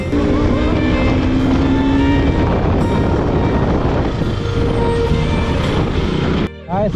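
A KTM RC200 motorcycle rides along a rough road near Mokokchung, its engine drone and wind noise loud and constant, with a rider talking over it and a brief dropout near the end.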